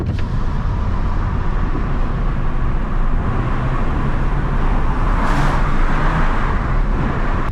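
A Ford Fiesta drives through a tunnel, its steady engine and road roar filling the space in a continuous, loud, enclosed wash of sound with no voices.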